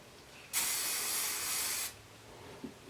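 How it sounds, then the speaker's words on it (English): A single sustained aerosol spray hisses loudly for over a second, starting and stopping abruptly, followed by quiet with a faint rustle. "And just spray it."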